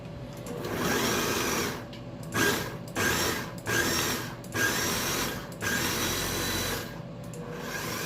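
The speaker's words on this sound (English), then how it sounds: "I'm going to pulse this until it's nice and creamy." Food processor pulsing roasted red pepper hummus with fresh chopped garlic, a loud buzzing motor running in several bursts with brief pauses between pulses, no talking.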